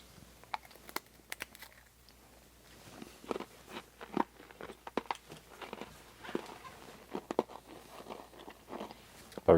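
Food from a French commando hot-climate waterproof ration is chewed and crunched right against the microphone, giving loud, irregular crackling bites and crisp snaps over several seconds with quiet gaps between them.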